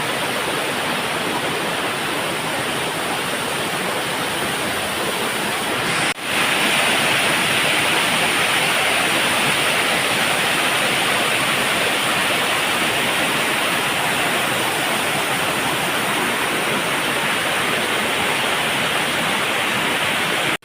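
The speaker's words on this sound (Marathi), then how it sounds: "आता मेन पागावाडी तो धबधबो" The Insuli Pagavadi waterfall near Sawantwadi roars as a loud, steady, broadband rush of falling water, constant and close for the whole stretch, with a brief dip and bump partway through.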